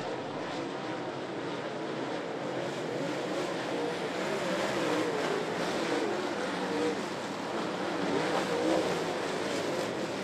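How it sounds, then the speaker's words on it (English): Race cars roar around a racetrack in a continuous broad engine drone that swells and fades slightly as they pass, heard at moderate distance with faint background murmur. "Skylar Marler racing with older brother Mikey Marler for that fourth and fifth spot"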